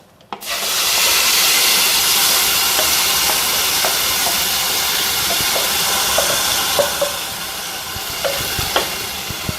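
A loud, steady sizzle and hiss erupts and holds, with occasional small pops and crackles, as ground masala is poured into hot oil with popped mustard seeds.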